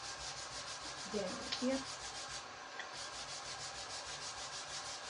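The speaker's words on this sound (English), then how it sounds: "I'm going to grab my sander, just for the heck of it, and see if I can sand it" Power sander running over a wood-burned cutting board, a continuous steady whirring rub with a slight pulsing texture, close by, with a brief spoken remark over it.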